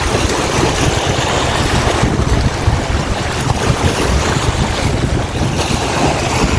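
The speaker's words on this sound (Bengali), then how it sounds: "দেখেন পানির কলকল শব্দ" Steady rushing and lapping of the Padma River, with wind buffeting the microphone throughout; no voices.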